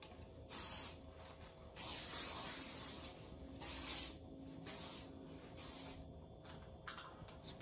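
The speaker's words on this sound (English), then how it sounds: "I'm going to do some Latafa body spray." Four short bursts of aerosol body spray hiss out one after another, each lasting about a second, with quiet pauses between.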